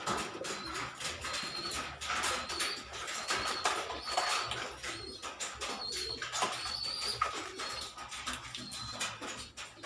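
Pigeons coo repeatedly, several birds murmuring and calling close by in soft overlapping bursts, with a few higher chirps mixed in.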